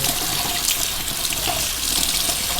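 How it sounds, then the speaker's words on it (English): Cold-to-warm tap water runs over a Brita pitcher filter cartridge, a loud, close, steady hiss and splash of flow into the sink that continues unbroken throughout, with no voices. "You rinse it for 15 seconds, cold to warm. Rinse. Let's get it rinsed off real good."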